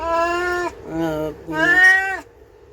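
A cat meows loudly three times in quick succession, long drawn-out wailing calls close to the listener with brief pauses between them.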